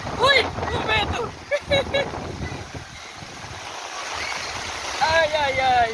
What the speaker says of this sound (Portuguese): Meu Deus, como tá grossa a chuva.